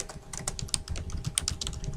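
Quick bursts of keystrokes on a computer keyboard while search terms are entered, with closely spaced clicks in an uneven rhythm, close and clear, with no talking.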